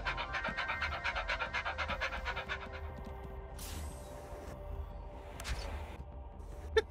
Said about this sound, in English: why am I hearing a dog?